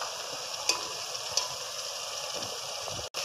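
Onions sizzle in a hot pan for a Sindhi chicken tikka biryani, a steady close frying hiss with two small clicks early on and a brief break near the end.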